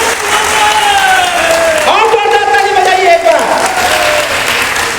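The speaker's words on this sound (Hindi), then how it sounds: "जोरदार ताली बजाकर के इनका स्वागत करिए" Loud, sustained applause from a rally crowd in Kushinagar welcoming a new member into the Suheldev Bharatiya Samaj Party, steady throughout with some cheering, and voices carrying over the clapping.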